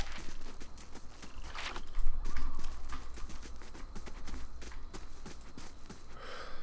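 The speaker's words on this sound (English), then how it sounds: "big horses." Horse hooves clip-clop steadily in the fantasy RPG Pillars of Eternity, a continuous rhythmic trot of large horses with faint game ambience and a brief louder swell midway.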